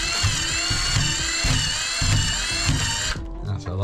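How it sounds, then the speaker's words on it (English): A small drill driver whirs steadily while undoing screws on a large stacked fuse board, a close, continuous buzzing motor with rhythmic pulses that stops abruptly near the end. "I'm just going to get this little drill driver and just go in here."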